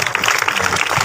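Church congregation clapping in thanks after a prayer, a brief, loud, dense burst of many hands applauding together, close and without voices.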